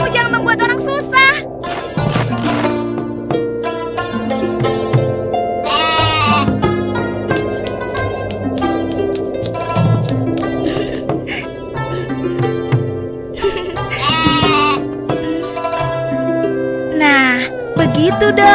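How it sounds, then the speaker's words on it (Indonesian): Goats bleat repeatedly and loudly up close, overlapping wavering cries from several animals continuing throughout, with occasional voices mixed in. "Itu namanya kambing pintar."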